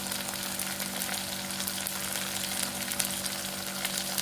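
Turmeric, chili powder and homemade masala frying in hot oil, a constant dense sizzle with faint stirring scrapes and no talk.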